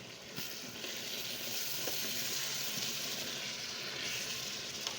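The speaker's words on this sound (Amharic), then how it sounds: "አሁን ስጋውን አቅላለዋለሁ" Meat sizzles steadily in a pan while being fried for a wot stew, a continuous bright crackle with faint stirring scrapes, no talking.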